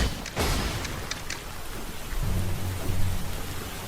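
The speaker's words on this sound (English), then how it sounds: "the sound effect for the rain makes it sound like one of those actual AAA games" Steady rain hisses in a Roblox Demon Slayer video game, with a low rumble like thunder swelling in the second half and a few sharper spatters early on.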